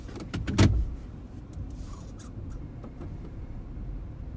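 Toyota Prius Alpha pulling away from a parking spot, opening with a short whirring motor and clunk, then a low, quiet hybrid hum with faint mechanical ticks, nobody speaking.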